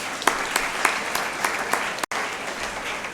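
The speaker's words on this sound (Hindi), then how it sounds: "जोरदार तालियां बजाइए।" Steady crowd applause fills the hall at a birthday celebration event, dense and continuous with a few sharper claps standing out, broken by a brief dropout near the end.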